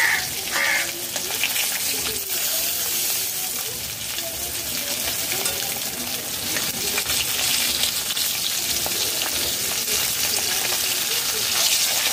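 Snakehead fish frying in oil over low to medium flame, a steady broad sizzle running throughout with occasional turning noises.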